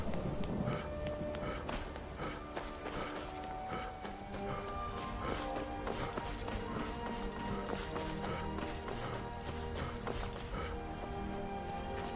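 Horse hooves galloping steadily through a Skyrim landscape, a continuous rapid patter blending with a rain-like wash of ambient game sound, moderately loud and unbroken with no talk over it.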